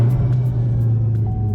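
A deep 2019 Corvette ZR1 engine rumbles loudly and steadily up close, a low idling growl with faint clicks above it.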